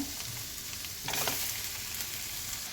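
Onions sizzle and crackle in a hot pan for a paneer dish, a dense frying hiss that swells for a moment as they are stirred, close and steady throughout.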